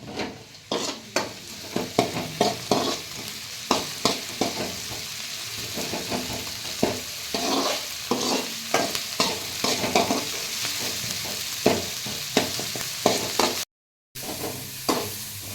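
Onion and tomato fry in a pan while being stirred and mashed, a constant close sizzle punctuated by frequent scraping and tapping strokes of a utensil, with one brief drop to silence near the end.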